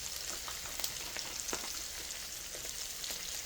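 Flour and oil sizzling in a pot while browning for a chuck roast, a steady close frying hiss with small crackling pops and a few soft stirring scrapes, no talking.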